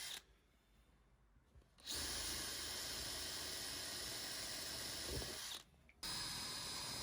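A power drill whirs loudly into wood for several seconds, pausing briefly once before starting up again, with a quiet stretch at the very beginning.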